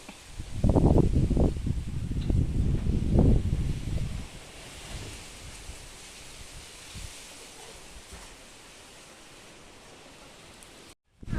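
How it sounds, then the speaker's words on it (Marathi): Strong wind gusts in a home courtyard, blowing loud, rough rumbling bursts against the microphone for the first few seconds, then easing into a softer steady rush until the sound cuts out. "बघा किती जोरा जोरामध्ये वारा सुटलाय"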